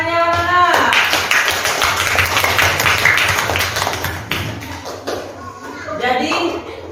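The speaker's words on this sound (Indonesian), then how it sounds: "Kita berikan tepuk tangan untuk kelompok 2 dan 3 karena paling banyak menjawab." Classroom applause for student groups two and three, a dense patter of many hands clapping steadily for several seconds, fading slightly toward the end as voices of children and the teacher emerge over it.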